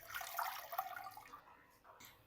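Cut radish pieces and radish leaves dropping into a cooking pot of water, a quiet close splashing and trickling that fades after about a second and a half.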